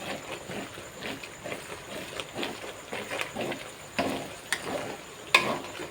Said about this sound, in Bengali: মশলাটা আমার ভালো করে ভাজা ভাজা হয়ে এসছে